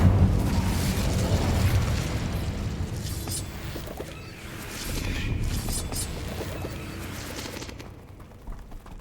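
In the Hogwarts Legacy video game, an Incendio fire spell sets off a loud, roaring, explosive burst of flame that rumbles for several seconds before tailing off into quieter game ambience.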